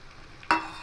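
A brief scraping stir of ghugni in a pan as chili powder, coriander powder and black pepper go in, with a soft sizzle; one quick, close burst followed by a shorter second movement.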